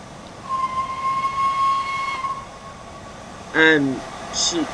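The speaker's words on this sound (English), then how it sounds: "It's the only surviving LNER A3 Pacific class locomotive left in the world" The LNER A3 Pacific Flying Scotsman steam locomotive in Train Sim World 4 gives a brief whistle blast near the end, heard over steady rail rumble and a long sustained tone, with a voice talking at the same time.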